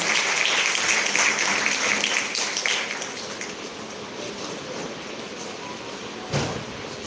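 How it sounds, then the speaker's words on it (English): Audience applause welcoming a guest at a college event in Amravati, dense clapping that is loud at first and then thins and fades over several seconds, with a brief bump near the end. "welcome Sir with a big round of applause"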